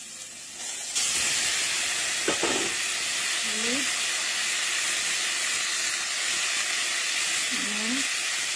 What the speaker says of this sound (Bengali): আদা কুচিটা দিয়ে দিলাম। একটু নেড়ে চেড়ে কচু শাকটা দিয়ে দিলাম